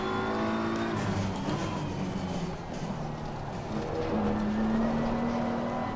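BMW M4 GT3 race car in Assetto Corsa Competizione, its engine droning loud and steady with shifting pitch as it accelerates and lifts, heard alone without talk.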